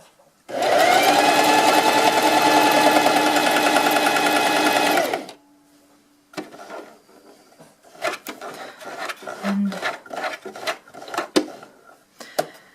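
A sewing machine stitches a knitted traditional Norwegian boat-neck sweater, giving a loud, steady whir for about five seconds. It then stops, followed by scattered clicks and handling noises.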